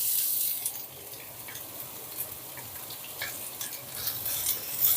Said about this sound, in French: Donc l'huile est chaude, je mets mon oignon à revenir.